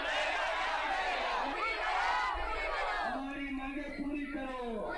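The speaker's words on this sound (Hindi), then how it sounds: "लेकिन भीड़ और बढ़ती हुई, लोग इकट्ठे हो रहे हैं" Protesters from a citizens' forum gathering on a railway track, a dense crowd murmuring and calling out with several loud voices rising over the constant hubbub, close and continuous.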